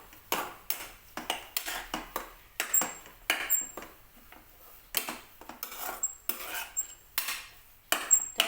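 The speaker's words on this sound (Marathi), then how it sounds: "वेलची पूड छान मिक्स करून घ्यायची." A metal spoon stirring cardamom powder into jaggery sheera in a pan, sharp clinks and scrapes against the pan in an irregular rhythm of repeated strokes, close and alone without talk.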